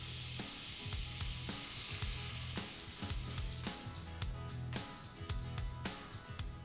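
White wine poured into a hot pan of sizzling paprika, a loud, dense crackling hiss punctuated by sharp pops and spits that keep coming throughout.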